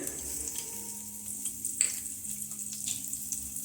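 A tadka of dried red chilli, green chilli, turmeric, salt and semolina for a dosa filling fries in a pan with a soft, steady sizzle and a brief clatter midway.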